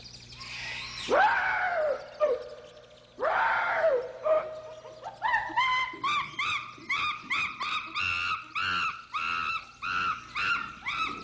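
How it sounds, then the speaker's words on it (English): Bright-winged sparrow call played as a bird sound in a comedy show: two loud swooping cries, then a long run of quick, evenly spaced chirping notes, close and clear, with no talk. "A bright-winged sparrow."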